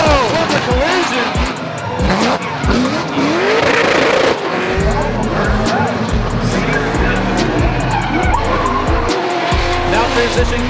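Drift cars skidding at a drift series event, with loud tire squeal and screeching over roaring engines, close and continuous, while an excited commentator talks over the action.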